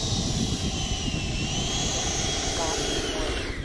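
Freewing F-22 Raptor RC model jet in flight, its steady ducted-fan whine rushing continuously with wind noise throughout, loud and close as from an on-board camera, with no pauses or breaks.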